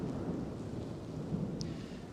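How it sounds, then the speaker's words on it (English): Rainstorm outdoors at a university campus venue, with a low, continuous rumble of thunder under steady rain noise and no talking. "If you hear the thunder"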